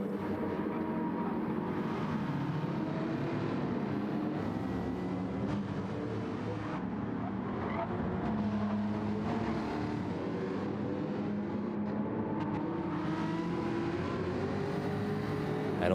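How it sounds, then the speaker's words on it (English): GT3 race cars in a video game roar continuously around a track, engines droning and shifting in pitch as they pass, steady and mid-distance with no pauses. "Make sure we can all hear the cars out on track."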